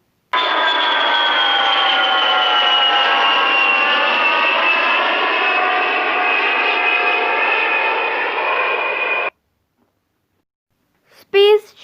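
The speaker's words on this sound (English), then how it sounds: "Aeroplane." An aeroplane flies past with a loud, steady engine drone and a slowly shifting tone for about nine seconds, then cuts out, and a voice speaks briefly at the end.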